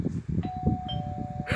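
A doorbell rings in the Roblox Bloxburg video game, a clear sustained electronic tone sounding over a steady bed of game noise and low chatter.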